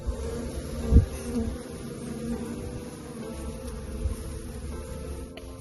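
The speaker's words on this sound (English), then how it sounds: "Their wings move so fast. That's what makes buzzing noise because their wings." Honeybees buzz in a continuous, close hum, with a brief louder swell near the start and no voices.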